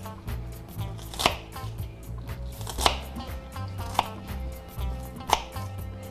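An onion sliced thinly with a knife on a board, four crisp, distinct cuts at irregular intervals against quiet low handling noise, close and clear with no speech.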